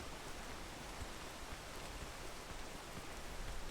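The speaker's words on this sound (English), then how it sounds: "Oh, no, the rain. The rain." Steady rain falling in the video game PEAK, a dense, even hiss of droplets that stays constant and fairly faint throughout, with no other sounds standing out.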